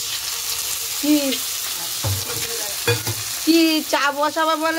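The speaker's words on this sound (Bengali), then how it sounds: "এর মধ্যে ডিম দিয়ে একেবারে ভেজে নিচ্ছি" Egg frying into boiled tarka in a pan gives a steady close sizzle with stirring scrapes, while voices talk over it in bursts.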